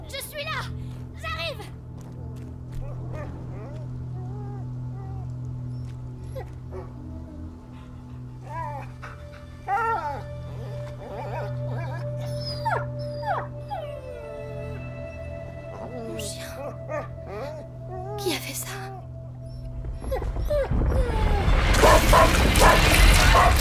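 A dog in A Plague Tale: Innocence gives soft, intermittent whimpers and yelps over a low ambient drone, with voices speaking in between and a burst of noise at the end.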